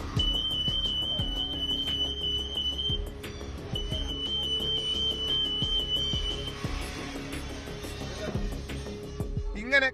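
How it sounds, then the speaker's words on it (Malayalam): An anti-theft sensor alarm at the door of a liquor store sounds as a sustained high electronic tone that cuts out briefly and returns, under a narrator's voice and background bustle. "ഈ കുപ്പികൾ ബില്ല് ചെയ്യാതെ പുറത്തേക്ക് കൊണ്ടുപോകാൻ ശ്രമിച്ചാൽ വാതിൽക്കലിലുള്ള സെൻസറിൽ അലാറം മുഴങ്ങും"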